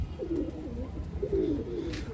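Loft pigeons give a few deep, burbling coos close by, two swelling phrases over a steady low hum, with no voices.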